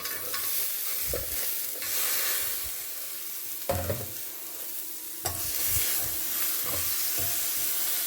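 Chopped ivy gourd stir-fries in a pan for Kerala-style upperi, with a steady loud sizzle and hiss broken by a few scraping stirs of a spatula, close up and without talking.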